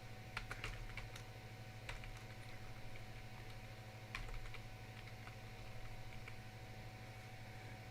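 A password is typed on a computer keyboard as a few soft, quick key taps, in scattered clusters over a steady low electrical hum in a quiet room.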